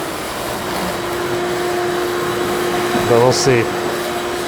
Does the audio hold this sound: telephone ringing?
no